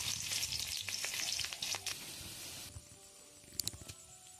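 Chopped onions and chili sizzle and crackle in hot oil in a wok, a steady close frying hiss with a few sharp pops, with no talking.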